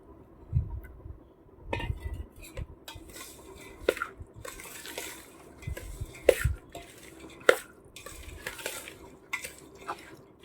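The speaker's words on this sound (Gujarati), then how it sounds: "અને બરોબર મિક્સ કરી દેવાનું એટલે તેલ બધાની અંદર ભળી જાય" A spoon stirs and scrapes through a chickpea-fenugreek pickle mixed with cooled groundnut oil, giving irregular clinks and knocks against the bowl with soft wet mixing in between, close and fairly quiet, no talking.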